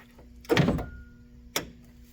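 A BMW E36 car door with a broken latch return shuts with one solid thunk, followed a second later by a shorter, lighter latch knock, close and clear over a faint steady hum.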